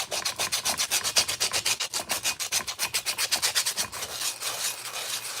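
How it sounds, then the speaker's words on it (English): Sandpaper rubs back and forth over a Halloween bottle in quick, steady strokes, each a close, bright rasp, easing into a lighter, smoother scrub near the end. "let's sand it a little bit to make sure"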